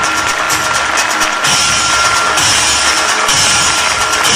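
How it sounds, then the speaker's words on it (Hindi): An audience applauds in honour of the speaker's mother with dense, sustained clapping that fills the whole stretch. The clapping swells slightly in waves and is loud and close. "मेरी माताजी के लिए एक बार जबरदस्त तालियां होनी चाहिए, जबरदस्त तालियां होनी चाहिए"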